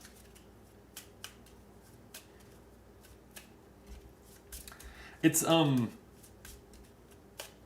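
A deck of cards for the board game Ashes Reborn is riffle-shuffled in one quick, crisp burst lasting under a second, after scattered soft table clicks and taps in an otherwise quiet room.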